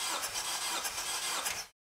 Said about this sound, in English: Have assistant crank engine 5 revolutions or puffs of the needle on gauge.